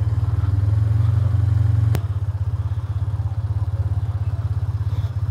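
A car engine idles close at hand with a steady low thumping pulse while the vehicle pulls in and parks beside a hill pub in the Yorkshire Dales, a sharp click cutting through midway.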